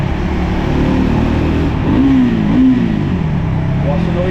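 Triumph Scrambler 400X motorcycle from 2025 with a Euro 5 exhaust, its muffled single engine droning steadily at close range, with a brief rise in revs partway through and talk over it.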